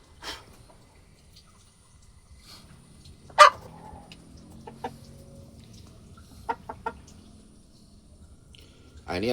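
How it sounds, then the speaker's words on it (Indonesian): An Elba breed rooster gives short, scattered clucks and one sharp loud call, separated by near silence, with faint low background noise. "inilah ayam jago jenis Elba ya"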